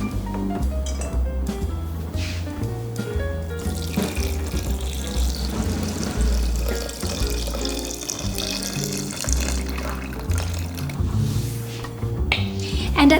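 Tap water runs and pours into a Thermomix TM5 bowl, a steady splashing stream heard close, with some background music or noise underneath.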